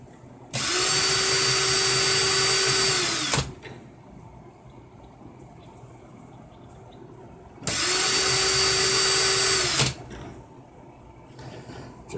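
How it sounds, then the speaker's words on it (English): A cordless power drill run in reverse to loosen a coil on a Dead Rabbit RDA build, two loud, close, sustained whirring bursts of about three and two seconds, separated by a quiet pause. "Put my drill in reverse"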